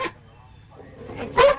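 A man imitates a dog's bark with his voice, a single loud, short woof-like burst near the end after a few quieter vocal sounds.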